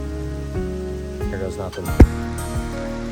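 Steady rain patters on a forest canopy and ground during a storm, a constant wash of drops beneath a person talking and a sharp close knock partway through.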